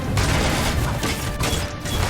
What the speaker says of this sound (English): dual pistols, like these ones